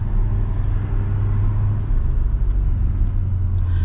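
A C8 Corvette in sport mode heard from inside during a drive, a loud deep engine rumble with throaty low-end swells as it downshifts, steady and close with no talking.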